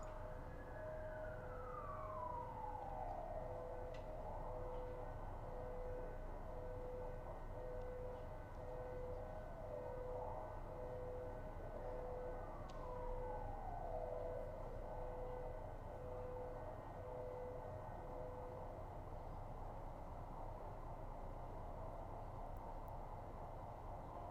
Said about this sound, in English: I'd say it was a bunch of sirens.